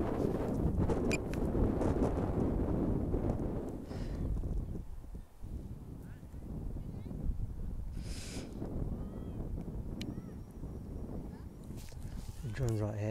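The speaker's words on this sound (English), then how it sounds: "This is a strong gust." A strong gust of wind roars over an outdoor microphone in a park in Dagenham, London, during a DJI Mini 3 Pro drone flight, loud and continuous for most of the stretch, easing only briefly.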